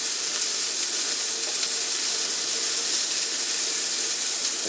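Buttered sourdough bread sprinkled with parmesan sizzles steadily in a hot cast iron pan, a continuous close frying hiss with no talking.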